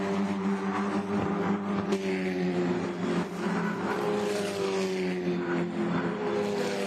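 Formula Regional Americas race cars circle Canadian Tire Motorsport Park during a Labour Day weekend sprint race, a steady droning engine whine that continues throughout without pause.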